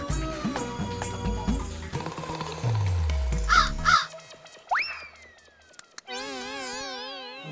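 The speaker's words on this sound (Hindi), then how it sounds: "बेशरम कौवे" Crow cawing amid comedy-scene sound effects and music, with harsh calls, a rising whistle-like tone and a wobbling warbled effect at the end, loud and close.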